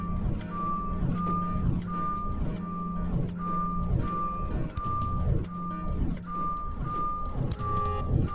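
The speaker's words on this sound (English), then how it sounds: "listen carefully for the sound of an alarm clock, which will automatically play if you are approaching a destabilizing dream weight" A repeating electronic alarm beep from the video game Superliminal, steady evenly spaced tones over a constant low mechanical drone, loud and continuous throughout.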